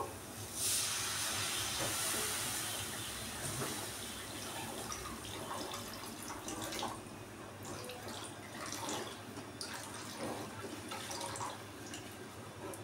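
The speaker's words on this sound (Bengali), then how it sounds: "এবার আমি এর মধ্যে জল দিয়ে দেবো।" Water hits hot, well-fried masala in a pan with a sudden loud hiss of steam that gradually settles into softer sizzling and bubbling, heard up close with no voices.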